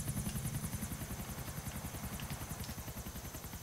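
A helicopter in Grand Theft Auto IV, its rotor chopping in a fast, steady pulse that stays loud and continuous throughout.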